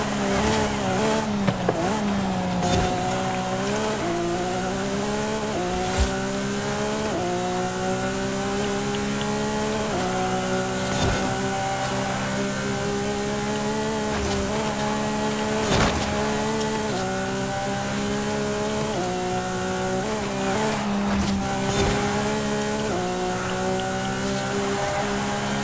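A Lamborghini Aventador SBJ races in Forza Horizon 5, its engine holding a loud sustained whine that climbs and drops through repeated gear shifts, with occasional sharp bumps and tire noise, steady and close throughout.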